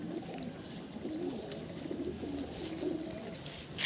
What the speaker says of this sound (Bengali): খুবই সুন্দর আর বিরাট দমের পায়রা